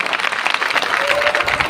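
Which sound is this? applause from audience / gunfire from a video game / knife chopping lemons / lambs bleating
applause from audience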